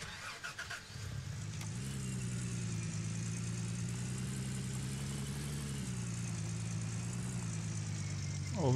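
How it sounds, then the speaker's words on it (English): A car engine in the Gold Rush The Game video game starts and settles into a steady, droning hum while driving, fairly quiet and continuous with a slight rise in pitch near the end. "Okay, let's park the car somewhere else."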